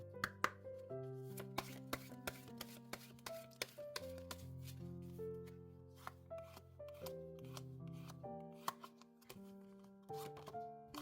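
Oracle cards are shuffled and drawn during a weekly tarot reading, with soft rhythmic riffling, rubbing and crisp taps repeating close by under sustained background music.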